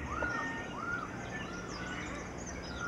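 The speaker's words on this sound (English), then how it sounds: "a great cuckoo dove" Great cuckoo dove calling in New Guinea forest: repeated soft, rising-falling whooping notes at a slow rhythm, moderately near, over a continuous backdrop of insects and other birds.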